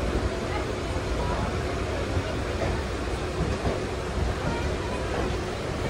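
A moving train departing Sealdah at night, heard from inside the carriage as a steady broadband rumble and rush that stays even and continuous throughout.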